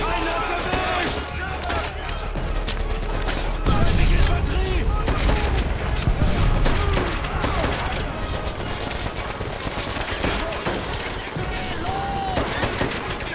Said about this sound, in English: Guys, do we know where the Germans are shooting there